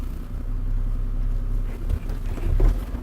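An IVECO Eurocargo 4x4 truck rolls down a short descent in second gear with a steady low engine drone and wind rumble, the noise swelling slightly toward the end.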